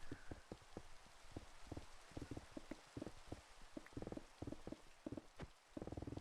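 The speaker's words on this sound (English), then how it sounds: "I had no idea it's been raining for 70 minutes." Steady rain hisses throughout in the Minecraft video game on PS4, under a run of sharp, irregular thumps and clicks from mining bedrock layers; no one speaks.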